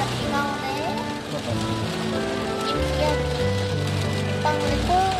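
Dense heavy rain pours steadily, a constant wash of drumming water, with faint tonal sounds drifting underneath.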